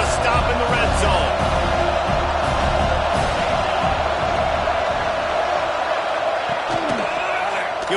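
A stadium crowd in the College Football 26 video game roars steadily as the defense digs in for a red-zone stop in an MTSU vs Tennessee matchup. The cheering stays loud and unbroken throughout, with commentary talking over it.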